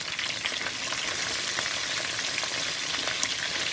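Pieces of salmon fry in a hot pan and give off a dense, even hiss of sizzling with scattered fine crackles throughout, close and steady, with no voices.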